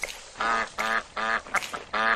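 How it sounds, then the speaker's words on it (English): Duck quacks, about five loud, evenly spaced calls in a steady rhythm, close and clear, set within a children's counting song. "She saw 12 ducks, ducks, ducks, and they said quack, quack, quack."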